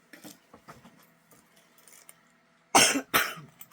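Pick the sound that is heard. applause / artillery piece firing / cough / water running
cough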